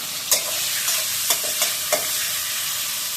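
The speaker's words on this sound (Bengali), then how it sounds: "তেলটা গরম হয়ে গেছে, চিংড়ি মাছগুলো দিয়ে দিচ্ছি" Prawns frying in hot oil in a wok, a loud continuous hiss of sizzling with a handful of brief spatula clinks as they are stirred, close up and without speech.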